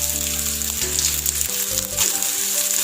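Chopped shallots and mustard seeds sizzle and crackle steadily in hot oil, with a bright, continuous frying hiss and occasional stirring.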